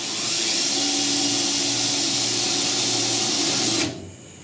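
A drill boring a 1/8 inch pilot hole in the body metal of a 1966 Ford F100 while seatbelt mounts are fabricated, a steady high whine running loud for nearly four seconds and then cutting off abruptly.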